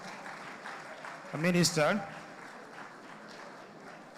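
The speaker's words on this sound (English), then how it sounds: "Another round of applause for our" A conference audience applauds steadily in a hall, the clapping running under a speaker's voice from start to finish.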